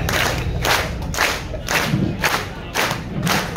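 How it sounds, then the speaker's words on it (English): Crowd at a live concert set clapping along with a performer on stage, rhythmic claps repeating about every half second over a loud, reverberant room with scattered shouts. "So follow my hand clap."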